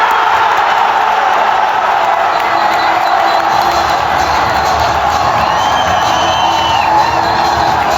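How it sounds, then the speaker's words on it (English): Stadium crowd at an Arsenal vs Newcastle United match in Singapore roaring after an equaliser, a loud, sustained wall of cheering, whoops and shouting from a huge crowd that holds steady for several seconds. "the crowd went insane after Arsenal levelled the scores"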